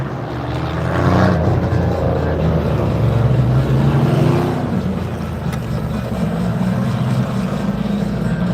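Race cars run hot laps at Flat Rock Speedway, a steady, loud blend of engine roar from the track that swells and eases slightly as cars pass, with no clear speech.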